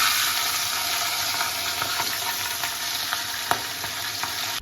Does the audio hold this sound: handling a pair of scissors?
no